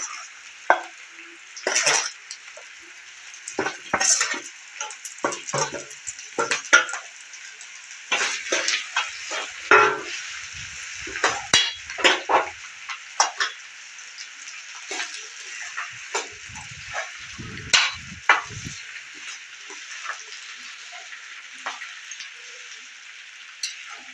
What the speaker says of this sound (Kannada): ರೆಡಿ ಮಾಡ್ಕೊಂಡಿರೋ ಜವಳೆಕಾಯಿನ ಇದರಲ್ಲಿ ಒಗ್ಗರಣೆಗೆ ಹಾಕ್ತಾಯಿದ್ದೀನಿ